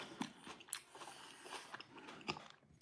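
Close, crisp bites and wet chewing of fresh tomatoes eaten alongside pork belly adobo and eggs, a few sharp crunchy bites spread over about three seconds at low volume, with no talk.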